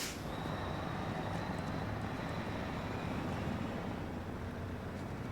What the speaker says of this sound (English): I can hear the turbo kicking in.